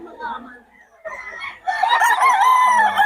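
A gamecock stag crows once, close and loud, with a long ringing cock-a-doodle-doo at a Bocaue chicken farm, following a stretch of quieter background voices and farmyard noise.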